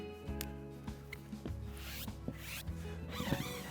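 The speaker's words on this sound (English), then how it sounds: "Now I'm going to use a squeegee to just kind of help lay everything down." A squeegee rubs and scrapes over vinyl stickers, pressing them onto a surface in short, close, repeated strokes with no talking.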